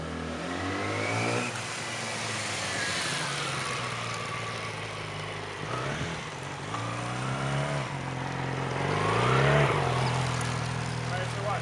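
A 2007 Yamaha R6 600cc sport motorcycle with stock exhaust, engine rising and falling through revs as it pulls away, steady drone building toward the end, close and loud with some wind and speech underneath.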